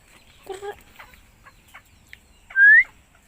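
Red jungle fowl and bantam chickens call near by, with a few short clucks and chirps scattered through quiet background, then one louder, higher drawn-out crowing note near the end; no talk.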